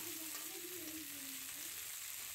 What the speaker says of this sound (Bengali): ওই তেলের মধ্যে দিয়ে দেব পেঁয়াজ, কাঁচা লঙ্কা আর টমেটো দিয়ে হালকা একটু ভেজে নেব।